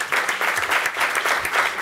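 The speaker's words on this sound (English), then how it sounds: "How about a big round of applause for our panelists?" A panel-discussion audience applauds the panelists at a policy event, steady dense clapping filling the room throughout, moderately loud with no break.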